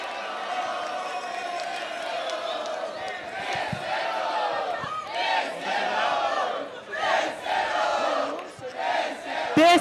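Crowd at an MC rap battle duel roaring and shouting in sustained waves, loud and dense throughout, with voices yelling over the noise.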